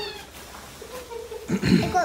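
Stray cat meowing outdoors during a snowstorm, one short, fairly close meow near the end, with people talking quietly around it.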